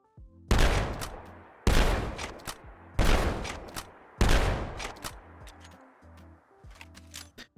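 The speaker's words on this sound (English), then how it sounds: "We're going to start off with pumping and reloading" Modded shotgun in a video game fires four loud, sharp blasts about a second apart, each trailing off, followed by quieter mechanical pump and reload clicks.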